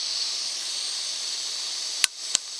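Steak fat sizzles in a pan at a campground as a steady, close hiss, broken near the end by two sharp little pops.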